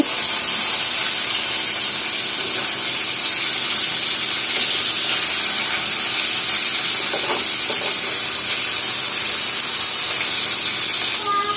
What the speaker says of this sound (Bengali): মাছগুলো এক সাইড ভাজা হয়ে গেছে। আমি এখন উল্টায় দেব সবগুলো